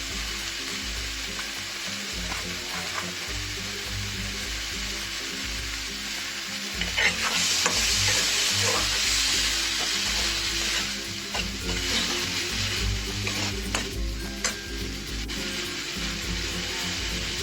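Tomato puree with salt sautéing in a pan for egg biryani, a steady close sizzle with stirring scrapes that swells louder midway and stays continuous throughout, with no talking.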